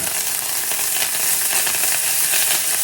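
A crispy rice dish fries loudly in a hot pan, giving a close, steady, hissing sizzle with a fine crackle throughout and no voices.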